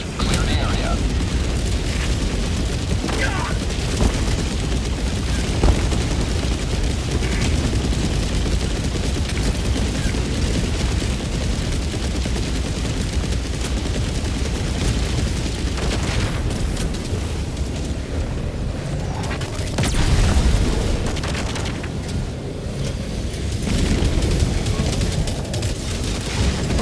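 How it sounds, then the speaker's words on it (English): Orbital barrage in Helldivers 2 pounds the area with dense, continuous heavy explosions and rumbling booms that roll on without pause, with voices talking over the chaos. "Tactical asset near your position. Firing orbital barrage."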